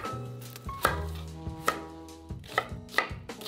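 A knife chops an onion on a cutting board for a Korean barbecue marinade, giving a steady series of crisp, close thuds and clicks alone in a quiet kitchen.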